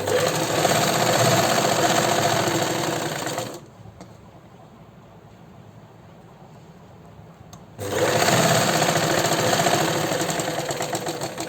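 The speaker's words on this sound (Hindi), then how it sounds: "आप देख रहे हैं मैं बड़े आराम से चला रही हूँ मशीन, मुझे कुछ परेशानी नहीं हो रही है इसको चलाते हुए।" An electric sewing machine stitches fabric piping in two loud, steady runs of fast mechanical whirring, separated by a quieter pause of several seconds before the motor starts again.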